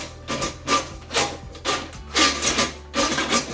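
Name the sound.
pulling a toilet auger out of a toilet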